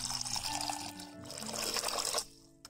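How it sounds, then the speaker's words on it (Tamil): Water is poured over white flattened rice (aval) in a kitchen, a steady, close splashing trickle that runs for about two seconds and then tapers off. "அது முங்குற அளவுக்கு இப்போ தண்ணி ஊத்துறேன்."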